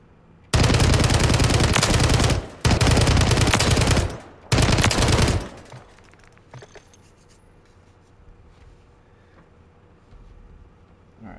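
Three loud, sustained bursts of automatic gunfire at a video game firing range, each lasting about one to two seconds with short gaps, then quieter ambient sound and faint clicks.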